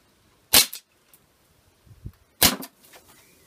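Two sharp, loud pops from a Dan Wesson 4 revolver softgun (airsoft, gas-powered) fired about two seconds apart, each a brief crack with a short tail, with faint quiet sounds between.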